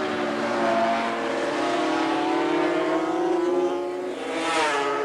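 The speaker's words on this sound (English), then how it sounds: "And Johnson coming up now for his second straight Grand Prix victory in the 500 class" 500cc Grand Prix racing motorcycles at Bathurst in 1984 scream past with a high, continuous engine note whose pitch climbs and sweeps as a bike accelerates, then a second machine rises near the end.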